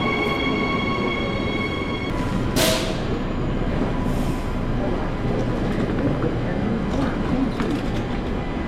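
A train on Perth's newest line, from the airport to the city in Australia, rumbles steadily with broadband rolling noise, a brief bright hiss or squeal partway through, and a high electric tone early on.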